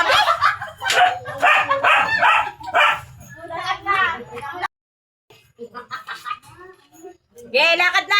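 A dog barks and yips repeatedly, fairly close, mixed with people talking nearby; a brief silence interrupts before the yapping resumes.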